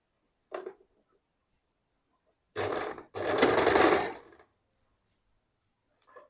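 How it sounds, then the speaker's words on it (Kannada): A sewing machine runs in two short bursts of close, steady stitching, sewing a short puff sleeve seam at a quarter-inch allowance, with a few soft handling taps between and no talking. "ಹೀಗಿಟ್ಕೊಂಡು 1/4 ಇಂಚಿಗೆ ಹೊಲಿಬೇಕು"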